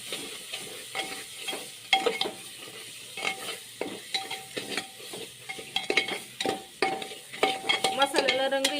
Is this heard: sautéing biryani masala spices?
yes